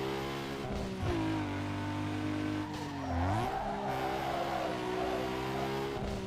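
Race cars in Need For Speed Underground 2, one chasing an RX-7, roar loudly and continuously, engines droning in steady pitch with a rising rev surge near the middle and tire squeal mixed in.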